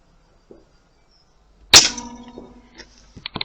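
A Zulas air rifle fires once with a sharp, loud crack, followed by a ringing metallic resonance and a few quick clicks from the target or the gun's action, all close and without speech.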